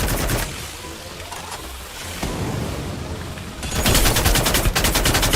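SCAR rifle fire in the shooter game Free Fire: dense bursts of rapid automatic shots open the passage, ease into a quieter stretch, then return louder and sustained toward the end.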